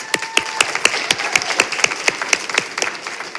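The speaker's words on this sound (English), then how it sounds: "Let's give her one more round of applause." An audience at a school board meeting applauds with steady, rhythmic clapping, several hands beating together in an even pulse over a wash of scattered claps.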